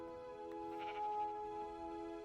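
A Minecraft sheep gives a short, clear bleat over a steady, tonal game music bed, with no talking.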